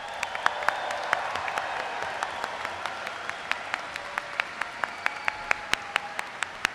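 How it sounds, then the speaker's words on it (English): Applause for business school graduates at a spring graduation celebration, a broad crowd clapping steadily while a few louder individual claps snap out at regular intervals above the wash. "Let's give them all a round of applause"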